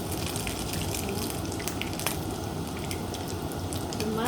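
Okra fries in a pan with a dense, steady sizzle and crackle, close and continuous throughout.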